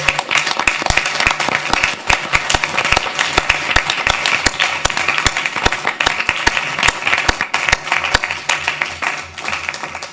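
An audience at an Orem city council meeting gives a round of applause for the city water staff, with sharp individual claps ringing out across a sustained ten-second ovation.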